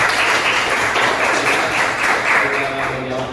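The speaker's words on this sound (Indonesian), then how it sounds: "Kita berikan aplaus sebentar." Audience applause for a group presentation in a classroom-style session, dense close clapping from many hands that holds steady and then thins slightly toward the end.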